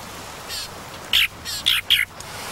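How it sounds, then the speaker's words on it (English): Española mockingbirds in a territorial flick-fight display on a Galapagos island give a few short, sharp squawking calls in quick succession over a faint outdoor hiss. "These mockingbirds are having a flick fight."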